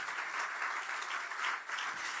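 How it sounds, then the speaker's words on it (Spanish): A church congregation applauds the Lord, a dense, steady wash of clapping that holds evenly throughout with no pauses. "Dale el aplauso bien fuerte al Señor en esta tarde."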